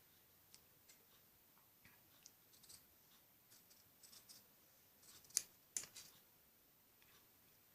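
Scissors cutting fabric for a child's top, faint, sparse snips and small ticks spread irregularly through a quiet room, with a few slightly sharper cuts near the end.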